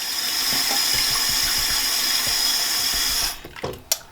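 Warm tap water runs steadily into a small cup holding baby shampoo for cleaning makeup brushes, a loud continuous rush that cuts off abruptly, followed by a few light clinks and handling sounds.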